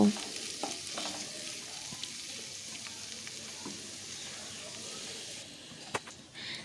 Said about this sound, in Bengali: সেটাকেও দিয়ে দিলাম এখন ভালো করে আমি ভেজে নেব